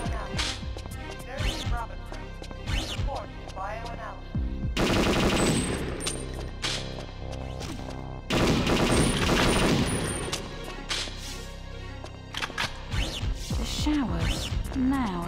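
Gunfire in the Nintendo 64 game Perfect Dark, with loud sustained automatic bursts in two long stretches amid game music, while voices talk over the shooting before and between the bursts.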